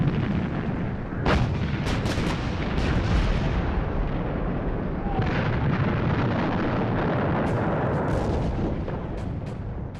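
British artillery bombardment on the Somme in 1916, a continuous loud barrage of overlapping booms and sharp blasts with no pause, dense and rumbling throughout.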